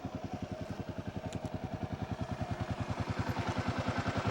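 Motorcycle on a backcountry road in New Mexico near Cuba, engine thumping in a steady fast rhythm up close, pitch and loudness rising gradually as it rides on, with no talk.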